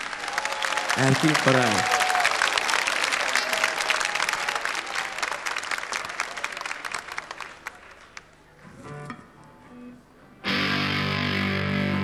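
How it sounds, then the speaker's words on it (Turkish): Big audience applause for a musician, a loud, dense crowd clapping that lasts for several seconds, with a voice speaking briefly early on. It fades near the end before music comes in. "Büyük alkış"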